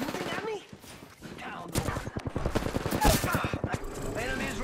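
Rapid bursts of gunfire from a video game battle, loud and repeated in a dense staccato run through the middle of the clip, with game voices and effects layered over the shots.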